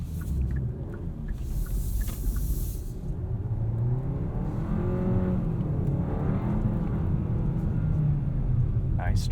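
A 2022 Kia K5 GT-Line AWD sedan accelerates hard out of a corner, its engine note climbing steadily in pitch over a constant road rumble, heard from inside the car.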